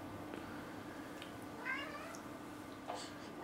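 A cat indoors gives a couple of short, rising meows, fairly faint against a steady room hum with no talking.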